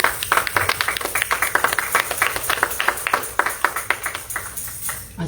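Applause for the Lord from a church congregation: a steady run of sharp, fairly dense handclaps, moderately loud and close, with no talking over it.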